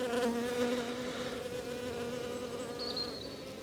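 Honey bees buzzing around open beehives in an apiary, a dense steady close drone with overlapping wingbeat tones and no talk.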